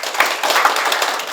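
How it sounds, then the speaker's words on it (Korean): Audience applause at a fire-safety industry forum in Korea, welcoming the association president to the podium: a steady, dense wash of clapping from a crowded room, even and sustained without pauses. "큰 박수로 맞아주시기 바랍니다."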